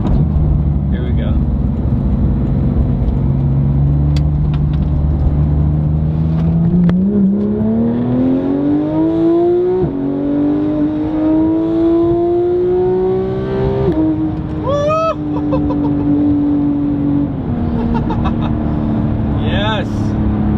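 A Porsche with a BMC intake air filter accelerating hard on a freeway, engine pitch sweeping upward through gear changes with a rising, strained drone heard from inside the car.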